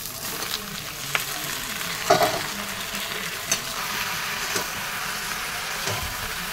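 Panch phoron spices sizzle in hot oil before fish is fried, a steady crackling fry with a few sharp pops and stirring scrapes, close and moderately loud with no talking.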